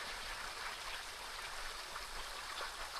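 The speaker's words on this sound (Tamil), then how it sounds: "இந்த தண்ணி சத்தம் நம்மளை அப்படியே வரவேற்கிற மாதிரியான ஒரு ஃபீல்" A steady rush of flowing stream water running over rocks in the Sathyamangalam forest near Neer Kundi Pudur village, faint and continuous with no voices.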